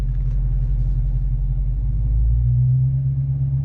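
A 2020 Dodge Charger Daytona Hellcat idles with a loud, deep rumble, then builds revs before launch, the engine note rising and swelling steadily at close range.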